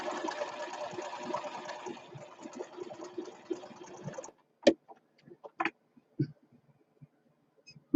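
A sewing machine stitches a quarter-inch seam in quilting fabric, a steady rapid whirring hum for about four seconds, then it stops and a few scattered clicks and fabric handling sounds follow in near silence.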